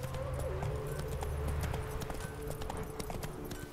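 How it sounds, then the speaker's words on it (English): Roach the horse galloping in The Witcher 3, rapid rhythmic hoofbeats drumming steadily over a low game music bed, continuous and fairly prominent. "Come on, go, horse."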